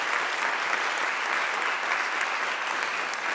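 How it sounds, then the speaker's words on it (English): An audience claps together in a steady, dense round of applause that holds at an even level from start to finish, with no voices standing out above it. "can we have a round of applause,"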